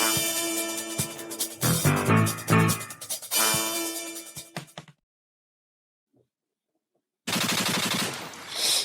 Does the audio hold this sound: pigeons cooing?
no